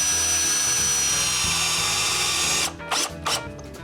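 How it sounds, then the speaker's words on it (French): A power drill drives screws through cedar boards into a small table base, a loud steady whine for over two seconds, then cuts out and gives way to two short bursts. "je peux visser les planches à la base"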